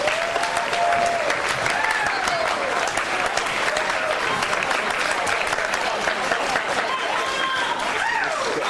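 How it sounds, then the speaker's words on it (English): Sustained applause from a large banquet audience honoring new inductees, steady clapping throughout with some crowd noise and faint voices mixed in. "Let's have a round of applause for all our new inductees."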